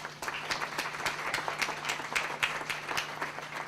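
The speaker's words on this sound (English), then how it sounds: "Could we have a round of applause for all of those companies?" Steady applause from an audience at a 2005 press event at Edison Tech in Rochester, a dense even wash of many hands clapping throughout, moderately loud and continuous.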